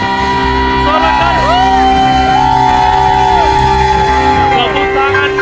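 A church congregation at a Sunday worship service cheers and shouts together over sustained instrumental music, loud, continuous crowd voices with rising whoops layered across the steady musical drone.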